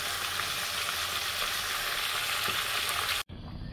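Chicken for rezala fries in a pan with a dense, loud, continuous sizzle that cuts out abruptly just before the end.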